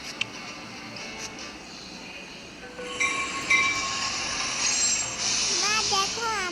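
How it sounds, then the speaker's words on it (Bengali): A train pulls into a station, a rolling rumble building steadily as it arrives, with rising wheel squeals near the end; a child and an adult talk over it. "মা দেখো আমাদের ট্রেন চলে এসেছে।"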